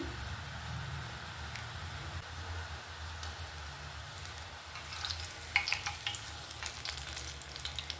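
Murukulu (janthikalu) rice-flour dough spirals fry in hot oil in a kadai, giving a continuous close bubbling sizzle. Scattered sharper crackles and pops grow busier toward the end.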